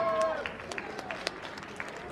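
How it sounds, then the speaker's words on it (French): An audience at a YouTuber conference at TGS 2023 in Montpellier claps briefly, scattered hand claps over crowd noise and a voice over a loudspeaker, lasting only a couple of seconds. "S'il vous plaît, applaudissements."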